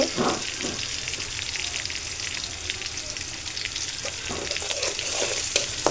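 Chopped onions fry in a small amount of oil rendered from fish for a curry, giving a steady, close, dense sizzle with occasional brief stirring scrapes and no talk.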